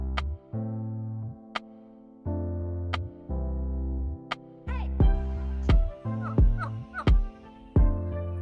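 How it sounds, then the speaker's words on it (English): Turkeys at an animal sanctuary gobble and call in a series of loud, warbling bursts, with sustained tones early on giving way to quicker, choppier gobbles nearby. "turkeys over here behind us"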